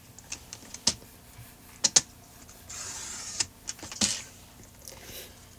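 A paper trimmer cuts a small piece of green cardstock for a birthday tri-fold card: a few sharp clicks and snaps, then a brief sliding cut, close and quiet, with no voices.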